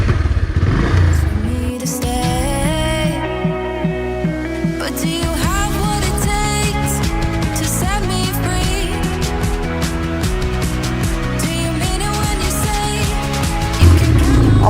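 A motorcycle labours up a steep hill track at Marayong Tong in Bandarban in first gear, its engine loud and close, revving and straining with rising and falling pitch and a clattering undertone.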